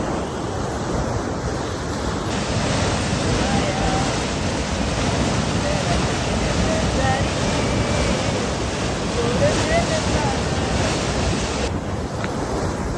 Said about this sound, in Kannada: ನೋಡ್ರಿ, ಫುಲ್ ನೀರು ಹರಿಯಾತವ.